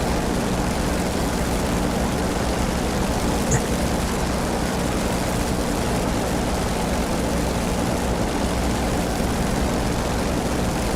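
A Corsair propeller engine in the DCS flight simulator drones steadily and loudly, a dense, unbroken roar with no voices over it.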